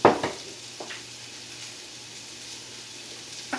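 Seasoned steak sizzles in a hot pan with a steady, quiet frying hiss, opening with a couple of sharp clatters before settling into a low continuous crackle.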